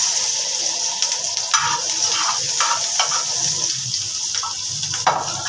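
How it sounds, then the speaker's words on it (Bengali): Green chillies, onion and garlic sizzle steadily in hot oil as noodles are prepared, a continuous close frying hiss with a few brief louder crackles and stirring sounds. "তেলটা একটু হিট করে নিব গাইজ এখানে কাঁচামরিচ পেঁয়াজ আর রসুন দিয়ে দিচ্ছি"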